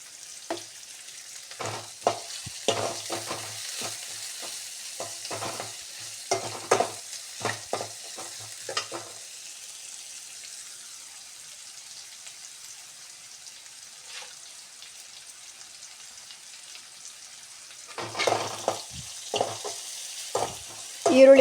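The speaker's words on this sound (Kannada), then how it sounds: "ಈರುಳ್ಳಿ ಸ್ವಲ್ಪ ಫ್ರೈ ಆಗಲಿ." Onions frying in a pan for brinjal vangi bath, with sizzling and repeated stirring scrapes in bursts, then a long quieter stretch of soft frying before stirring picks up again near the end; no talk.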